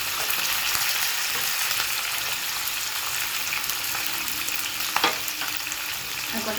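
Capsicum sizzles in hot oil in a pan for homemade chilli chicken, a steady close frying hiss broken near the end by a couple of scraping stirs, with no one speaking.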